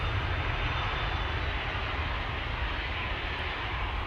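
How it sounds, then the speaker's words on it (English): KLM Airbus A321neo in new livery with an all-blue nose cone departing Amsterdam Schiphol, its jet engines a steady, loud broadband roar with a deep rumble, sustained and even throughout with no voices. "KLM A321neo with the new livery with an all blue nose cone."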